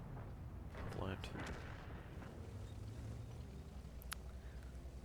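Tank guns fire in the World of Tanks video game, with booming shots and distant battle rumble under a steady engine drone, while a voice talks over the game sound.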